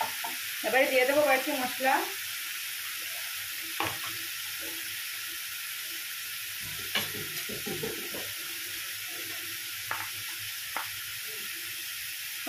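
Ginger and green chillies frying in a pan for a vegetarian stuffed aloo dum, a soft steady sizzle under quiet talk, with occasional stirring clinks and scrapes.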